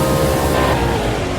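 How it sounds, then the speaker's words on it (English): A loud, steady engine roar fills the whole moment, a dense mechanical drone held up close with no pauses. "Let's get some revs."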